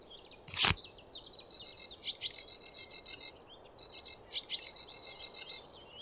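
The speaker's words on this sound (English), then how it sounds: "Eurasian magpie." Eurasian magpie call from the bird game Wingspan: a sharp burst followed by rapid rattling chatter in two repeated runs, clear and close over a faint background hiss.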